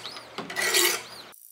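A knife blade drawn across a 200 grit sharpening stone gives one short, close grinding rasp that swells in the middle and then cuts off.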